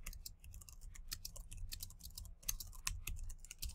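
Fingers type on a computer keyboard in a quick, irregular run of light key clicks, heard close and fairly quiet with no talking.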